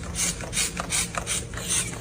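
A parrot mimics the clicking trigger of a spray bottle, giving a quick run of dry mechanical ratchet-like clicks in several close bursts with no talking.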